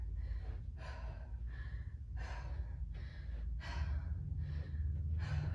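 Heavy, rapid breathing during a rest between sets of a hard lower-body HIIT workout, short gasping breaths repeating in quick succession, close and steady over a low background rumble.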